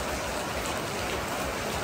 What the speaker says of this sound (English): It's very rainy. Very, very rainy.